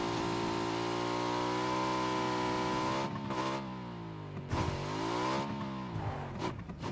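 A car engine in the PUBG battle royale video game drones steadily as the vehicle drives in first-person view. The pitch sags and recovers a couple of times, as if easing off and back on the throttle.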